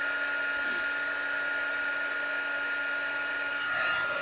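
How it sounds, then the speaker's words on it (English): A handheld heat tool running with a steady, high-pitched electric whine and a constant airflow hiss, close and unbroken, with no talk over it. "I'm heating up my heat tool"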